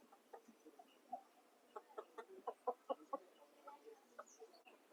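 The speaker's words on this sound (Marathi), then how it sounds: "हे बघा कोंबडे आहेत" Village chickens and roosters at a rural dhaba cluck in a quick series of short calls, with several louder clucks bunched in the middle, against a quiet outdoor background.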